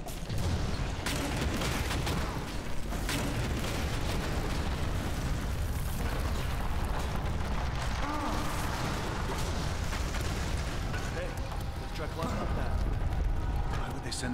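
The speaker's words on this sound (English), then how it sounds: "Why the hell are they firing us?" Continuous gunfire and explosions rumble through a firefight in the video game Inversion, a dense, loud barrage that never lets up, with voices talking over it.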